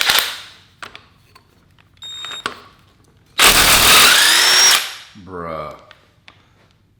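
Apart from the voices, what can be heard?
impact wrench removing bolts from Honda Civic engine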